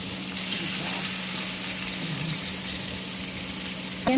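Onions fry in a pan for fish curry, giving a soft, steady sizzling hiss with a faint low hum underneath, ending in a short clatter.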